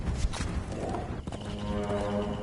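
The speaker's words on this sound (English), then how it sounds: "Come on, Mr. Horse. Go" A horse in the Conan Exiles game clip-clops along at a steady walk in a short run of hoofbeats, fairly faint against game ambience and with no talk over it.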